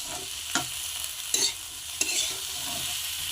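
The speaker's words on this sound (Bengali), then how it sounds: "ভিজিয়ে রাখা তরকা ডাল দিয়ে দেবো। সাথে কুলে কাটা শাক দিয়ে দেবো।" Soaked tarka dal lentils and chopped greens go into a hot pan with spices, giving a few sharp spoon knocks and scrapes over a constant frying hiss, close and fairly loud, with no voices.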